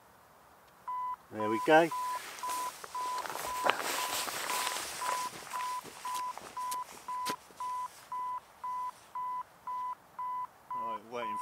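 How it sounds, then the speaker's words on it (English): A camera self-timer beeps in a steady run of short, evenly spaced tones that quicken toward the end while someone shuffles and speaks briefly nearby before it. "waiting for the self timer to finish"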